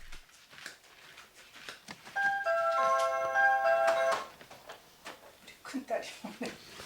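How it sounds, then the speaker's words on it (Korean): A short electronic doorbell chime rings once, a few clear tones, amid quiet indoor movement and faint voices. "그때 초인종 소리가 정막을 깹니다."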